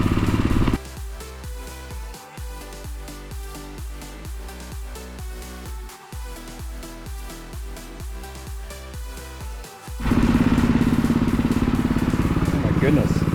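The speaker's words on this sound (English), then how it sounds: "Because I'm running a gas machine, it's dumping a ton of fresh air in here" A gas-powered line painting machine runs inside an underground parkade, giving a steady, rhythmic engine drone that carries for most of the stretch before giving way to a louder, rougher burst of broadband noise near the end.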